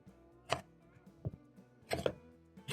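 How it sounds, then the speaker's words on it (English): A knife chops pumpkin into medium pieces on a board, with a few sharp, separate cuts spaced irregularly. The cuts are quiet and close, with no talking over them. "you'll notice that I'm chopping up the pumpkin into the same size"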